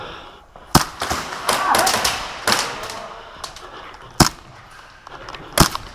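Airsoft guns fire during an outdoor skirmish game at a fortress site, with scattered sharp snaps and pops at irregular intervals over rustling movement and occasional voices.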